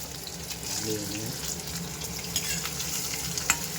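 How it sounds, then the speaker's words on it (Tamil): Onions added to hot oil in a pan for a blood gravy, giving a steady hiss and crackle with some stirring, close up, a faint voice partly present. "எண்ணெய் காஞ்ச உடனே நம்ம ஆனியன் சேர்த்துக்கலாம்"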